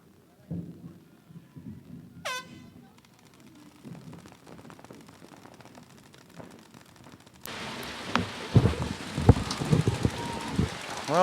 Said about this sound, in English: we got the rain rolling in here right now. It's pounding down.